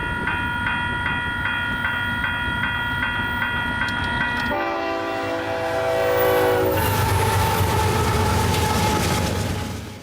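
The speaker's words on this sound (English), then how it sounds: "I was also able to later record another train passing this extremely cool crossing" At a railroad crossing, bells clang in a fast repeating ring, then a train sounds its horn in long loud blasts and rumbles through close by, wheels clattering over the rails.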